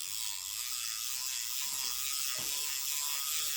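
A vintage Mitchell 300 fishing reel, freshly repaired, clicks and whirs steadily as its mechanism is worked up and down, a close, continuous ratcheting with a few louder clacks partway through.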